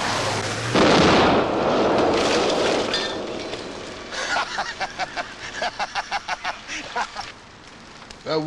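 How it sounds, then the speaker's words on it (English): A big explosion in a film lets out a loud sudden blast followed by a sustained roaring, crackling wash, then a run of rapid popping bursts like debris or secondary blasts. "I wanted to end with a big explosion."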